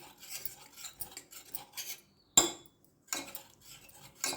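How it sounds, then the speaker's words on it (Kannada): A spoon scrapes and clinks inside a pot while stirring and mashing boiled toor dal, in short bursts separated by pauses, with a sharper knock near the middle; no talking. "ಹಿಂಗೆ ಚಮಚಲಿಂದ ಮುಗಿಸಿದ್ರೆ ಚಂದ ಮ್ಯಾಶ್ ಆಗ್ತದದು."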